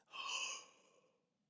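A single soft, breathy induced yawn from a vocal training demonstration, rising quickly and fading out over about a second, close and quiet with no talk.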